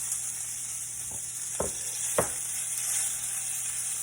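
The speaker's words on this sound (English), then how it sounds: "And all I want to do right here is just brown it on both sides." Thin, small pieces of beef sear in a skillet for beef stroganoff with a constant bright hiss, and three sharp utensil taps stand out above it. No one speaks.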